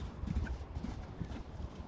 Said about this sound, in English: horses are out